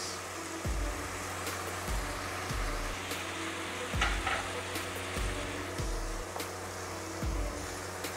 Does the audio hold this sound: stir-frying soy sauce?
yes